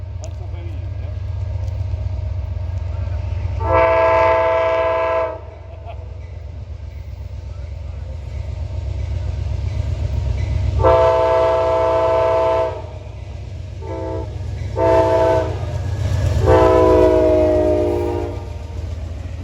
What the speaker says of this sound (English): Westbound Amtrak, Pennsylvania at 6:10.